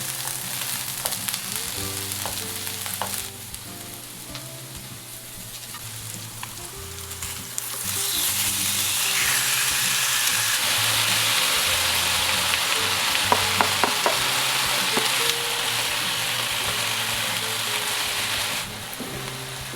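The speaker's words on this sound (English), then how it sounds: "Cover and cook until the onions are tender, about 5 to 7 minutes." Onions cooking in a pan for chicken curry, a quieter sizzle that swells into a loud, dense frying hiss partway through, with a few clinks from the pan.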